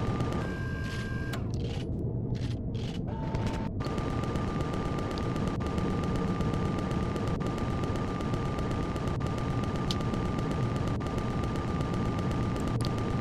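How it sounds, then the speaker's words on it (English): Rockets fired in Empyrion Reforged Eden, heard as a dense, steady barrage of loud blasts and gunfire-like bursts across the whole clip, with brief sharp pops punctuating the constant roar. "Maybe I'll use some rockets. Soften it up anyway."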